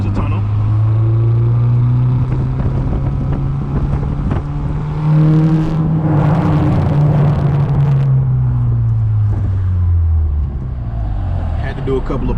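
Car with aftermarket coilovers driving through a tunnel, engine droning steadily close by as revs rise and fall, with brief crackling exhaust pops midway over the echoing tunnel roar.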